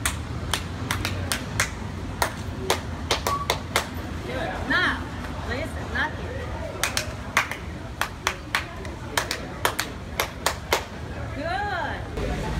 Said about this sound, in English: I will clap, you have to repeat.